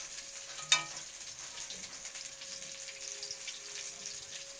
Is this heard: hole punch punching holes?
no